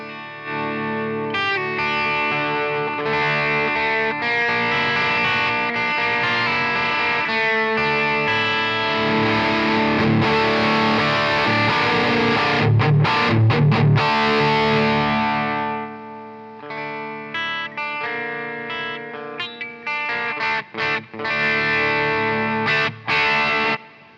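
A distorted electric guitar played through a TONEX amp model, loud and sustained with crunchy chords ringing for about fifteen seconds, then choppier stabs and shorter strums before fading out.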